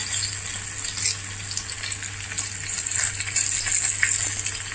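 Cumin, green chillies and curry leaves hit hot oil in a tempering for curd rice, a steady close crackling sizzle with small pops that holds throughout and grows slightly busier toward the end.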